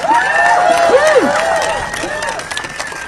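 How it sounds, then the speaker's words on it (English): A crowd of students and faculty at a Harvard march applauding and cheering, loud sustained clapping layered with rising and falling shouts and whoops close by throughout. "And another immense round of applause for Professor Ryan Enos."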